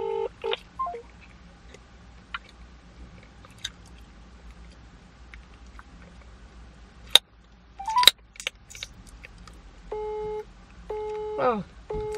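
A telephone handset gives quick dialing tones and a few clicks, then a repeated on-off busy tone sounds steadily near the end, clear and close.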